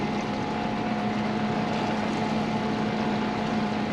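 A motorboat running on the water near an Alaska homestead, a continuous steady engine drone with a constant hum, moderately loud and alone.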